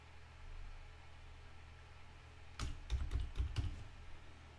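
A computer keyboard is used to type a new username during a Linux install, a short quick burst of about eight close clicks after a stretch of faint background hiss, with no talking.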